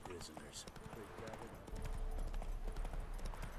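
Roach the horse in The Witcher 3 video game trots along with steady, rhythmic hoof clip-clops that grow heavier midway, heard fairly quietly beneath spoken dialogue.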